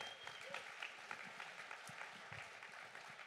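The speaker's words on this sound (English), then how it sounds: "Give them a big round of applause." A church congregation applauds the kids who helped during the services, a quiet, distant-sounding spread of clapping with a faint voice underneath.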